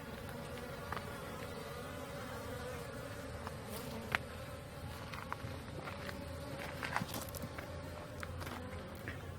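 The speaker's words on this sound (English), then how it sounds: "Both hives quite a buzz, but calm nevertheless" A steady hum of honey bees swarming around two backyard hives in Middle Tennessee, with scattered light taps and rustles over the continuous buzz.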